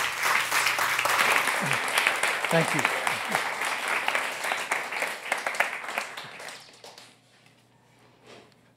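An audience applauds a journalist after his talk, a dense round of clapping with a brief spoken thanks partway through, thinning out and fading to near silence at the end.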